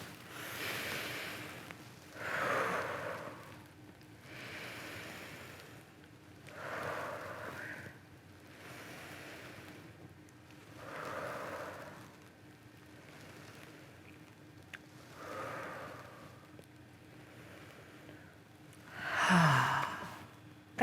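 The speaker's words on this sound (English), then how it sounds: "Let's do some hand breathing." Children doing a deep hand-breathing exercise, with slow audible inhales and sighing exhales repeating about every four seconds, soft and close, with no talk.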